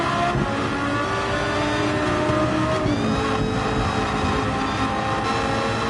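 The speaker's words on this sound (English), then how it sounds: "Listen to that sound of the engine." Mitsubishi GTO twin turbo race car in Gran Turismo 7 at the Nürburgring Nordschleife, a loud engine close by rising and falling in pitch through gear changes, with brief tyre squeal, no talking.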